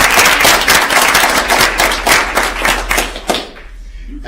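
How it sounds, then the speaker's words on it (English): A board meeting audience applauds the Citizens Advisory Council with loud, dense clapping close to the microphone, fading out after about three and a half seconds. "please give our Citizens Advisory Council a big round of applause"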